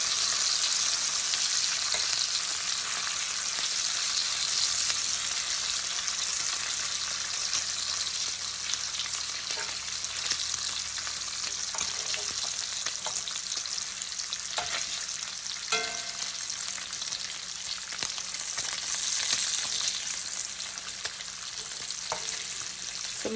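Bacon fries in a pan as its fat renders, a steady bright crackling sizzle running unbroken throughout with occasional small pops and scrapes, close and alone without talk.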